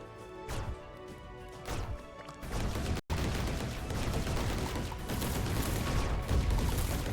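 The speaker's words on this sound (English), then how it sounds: "Because that means more explosions sooner. Yeah, it's not big explosions, but holy cow, is there a lot going on there." Towers explode in the tower-defense video game Emberward, a dense, continuous barrage of crackling blasts and impacts that swells after a brief dip and keeps rolling loudly without letting up.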